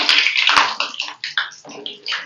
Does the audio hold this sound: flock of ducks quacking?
no